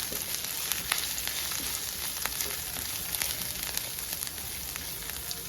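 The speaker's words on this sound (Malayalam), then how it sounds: "ഇഞ്ചിയും വെളുത്തുള്ളിയും ചേർത്ത് നന്നായിട്ടൊന്ന് അതിൻ്റെ പച്ചച്ചുവയൊന്ന് മാറ്റിയെടുക്കാം" Ginger and garlic frying in a pan over low heat for a Kerala-style kurma, a steady close sizzle with scattered crackles and pops, no voices.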